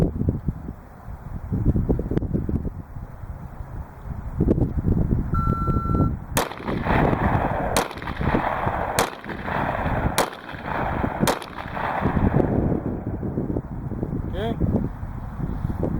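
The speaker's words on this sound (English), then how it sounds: "you're not allowed to shoot until you hear the beep" Outdoors in wind, a short electronic shot-timer beep sounds, then six sharp, loud pistol shots crack at uneven intervals over a few seconds.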